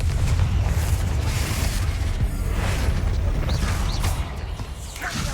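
Explosive Confringo spell blasts in Hogwarts Legacy, a sustained loud rumbling boom with crackling bursts over about five seconds, dense low-end roar throughout.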